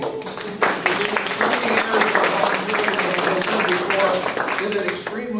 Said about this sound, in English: could we have a round of applause for Debbie?